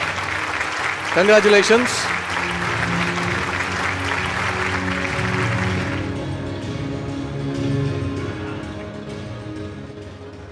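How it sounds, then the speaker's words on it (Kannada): An audience applauds at an awards ceremony. A burst of clapping and cheering comes with a short loud peak, then settles into steady applause under a presenter's voice before fading out. "ಬನ್ನಿ ಚಪ್ಪಾಳೆ."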